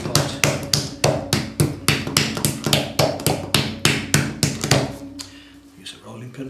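Hands repeatedly slapping and pressing a ball of clay flat for a large pot base in a pottery workshop, a steady run of a dozen or so close, dull thumps that stop near the end.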